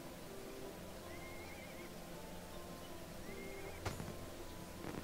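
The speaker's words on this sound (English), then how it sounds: "There we go, that's the horse." A summoned horse mount in the ArcheAge video game whinnies twice, faint wavering neighs over a low ambient background, with a sharp click near the end.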